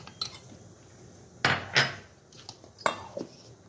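A metal pan set down and handled on a kitchen stove, giving a few sharp clanks and scrapes up close, with quiet pauses between the knocks.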